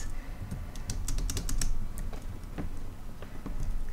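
Keys of a computer keyboard hammered hard and repeatedly during a session of Assassin's Creed Unity: close, sharp clicks in rapid irregular clusters, densest in the middle, over a steady background hum of game sound.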